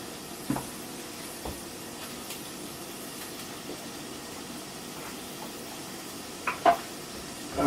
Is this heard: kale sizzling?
yes